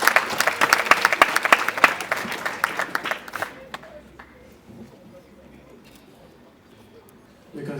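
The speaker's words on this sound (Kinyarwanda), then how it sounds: "reka tumuhe amashyi menshi cyane" Guests at a wedding clap after the vows, a lively burst of applause lasting a few seconds before fading into quiet room murmur with some distant voices.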